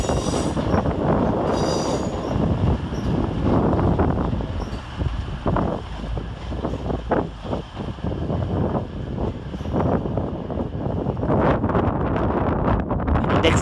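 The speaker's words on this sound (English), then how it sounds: "Rushing next into the station is 221123 with the 1208 cross-country service from Plymouth to Edinburgh Waverley" CrossCountry unit 221123 rushes into Leeds station on the 12:08 Plymouth to Edinburgh Waverley service. A loud, steady rumble of wheels and rolling stock with squealing rails and wind buffeting the microphone runs throughout.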